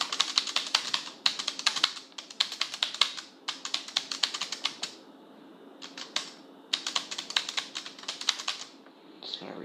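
Fast bursts of clicky computer keyboard typing, close and crisp, come in several runs separated by short pauses, with no voices.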